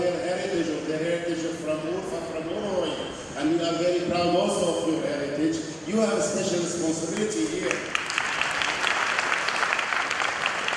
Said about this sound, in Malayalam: നിറഞ്ഞ കയ്യടിയോടെയാണ് കനാനയ സമുദായാംഗങ്ങൾ ആ വാക്കുകളെ സ്വീകരിച്ചത്